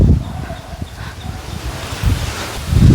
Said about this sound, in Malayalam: എന്ത് കാറ്റായത്!